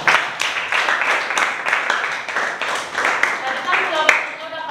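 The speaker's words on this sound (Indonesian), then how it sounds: "Tepuk tangan dulu" A classroom of students claps together during a chemistry lesson, a dense, steady burst of hands clapping at moderate loudness with voices mixed in.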